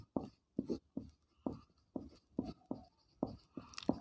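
Chalk or marker scraping across a board in a rhythm of about nine short strokes, each a scratchy burst with brief pauses between, close and moderately loud during a Class 9 chemistry lesson, with no talk.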